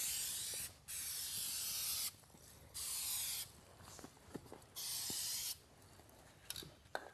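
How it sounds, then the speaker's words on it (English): A DupliColor spray can sprays primer in four sustained hissing bursts of one to one and a half seconds each, close and loud, with short gaps between bursts filled by faint handling clicks. "Whenever spraying, just hold the can about 8 to 10 inches from the surface."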